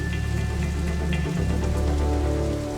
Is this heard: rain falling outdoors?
yes